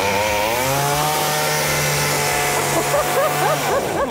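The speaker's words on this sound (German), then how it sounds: "wow, eine echte Kettensäge." A real chainsaw runs steadily throughout a stage show, its engine whining loud and close with slight pitch wavers as the throttle shifts.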